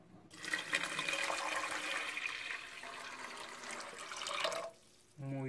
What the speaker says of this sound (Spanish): Lo que vamos a hacer es agregarle 1 litro de agua.